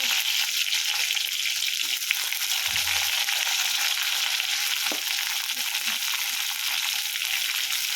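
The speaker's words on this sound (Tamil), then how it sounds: "இதை நல்லா வதக்கி விட்டுக்கலாம்." Garlic, small onions and a green chilli sauté in a clay pot with fennel and fenugreek, giving a loud, continuous hiss and sizzle with occasional soft stirring scrapes, and no talk.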